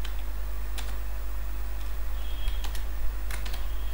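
Code typed on a computer keyboard in a Flutter tutorial comes as sparse clusters of close clicky keystrokes with pauses between them, over a steady low electrical hum and with no talking.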